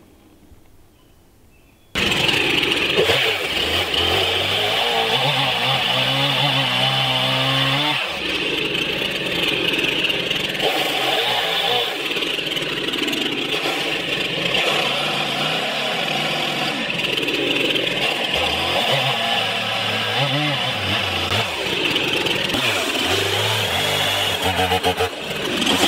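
A Stihl MS 362 chainsaw runs loudly and steadily at high revs while bucking a large poplar tree into 18-inch lengths, starting abruptly after a brief quiet moment and holding a continuous close roar with small shifts in pitch as it cuts.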